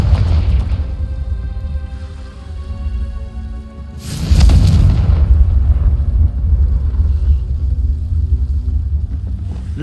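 The Confringo explosion spell in Hogwarts Legacy goes off with a sudden loud blast and then a sustained rumbling roar over background game music.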